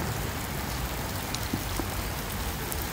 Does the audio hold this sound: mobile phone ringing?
no